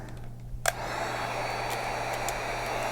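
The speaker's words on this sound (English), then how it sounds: "Get your heat gun going." A heat gun blowing on shrink wrap around a Polar Camel tumbler starts with a click, then settles into a constant, airy, motor-driven roar that runs evenly to the end.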